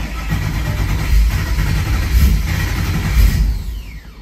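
A Ford Coyote V8 swapped into a car cranking and firing up for its first start, a loud, close rumbling roar that holds steady for about three seconds before easing off, with no talk over it.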